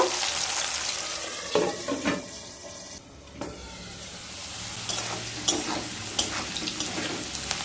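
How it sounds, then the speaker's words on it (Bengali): Potatoes fry in a pan for a light browning. A loud, steady sizzle runs close by, broken by stirring scrapes and clatters and a short lull partway through. "নেড়ে নিয়ে ঢাকা দিয়ে এবার আলুগুলোকে হালকা ব্রাউন কালার করে ভেজে নেব।"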